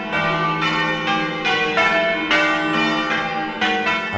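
Church bells in the timber-framed East Bergholt bell cage, hand-swung rather than rung by ropes, strike in an overlapping, rhythmic peal, loud and close with rich, lingering ringing tones.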